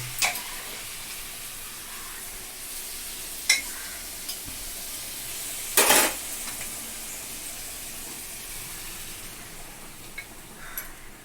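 Fish head, prawns and vegetables sizzle and fry in a pan for an Odisha feast-style mix, a steady hiss with a few sharp stirring scrapes and clinks, one louder burst midway.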